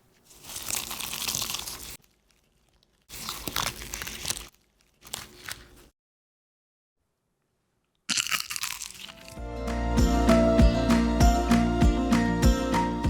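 Eggless fried buñuelos, crispy and cinnamon-sweetened, crunched in three bursts of loud, crackly biting and chewing separated by pauses, then followed by a stretch of music after silence.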